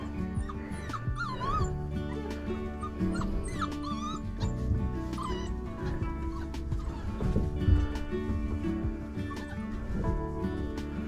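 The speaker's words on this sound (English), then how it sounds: "Here comes one puppy." Several puppies whimper and yip close by in a steady, overlapping chorus of high, wavering cries across the whole stretch, with brief bird-like squeals among them and no talking.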